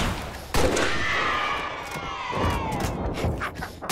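Weapon fire in the video game Halo: Reach, a loud opening blast followed by sustained shooting and whooshing effects that carry on at steady volume through the clip.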